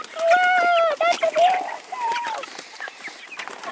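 Excited meat broiler chickens in a chicken tractor clucking and squawking loudly up close at feeding time, a busy flurry of bird calls and flapping with a person's voice mixed in.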